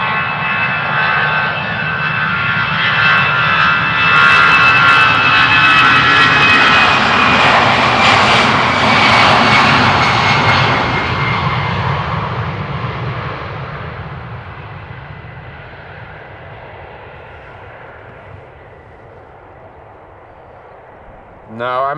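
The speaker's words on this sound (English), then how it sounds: "it's an A319 off to London Gatwick" Airbus A319 jet departing Amsterdam Schiphol for London Gatwick, a loud, rising engine roar with whining tones that peaks mid-clip and then fades slowly into the distance, with a voice heard during the passage.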